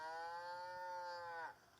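A single long, steady cow moo in a video game, loud and close, holding its tone before dropping off abruptly near the end.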